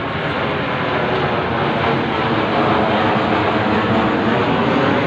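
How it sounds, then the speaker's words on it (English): An airplane passes overhead in a suburb at night, a loud, steady, broadband engine roar filling the whole stretch without pause. "But look, plane coming right for me."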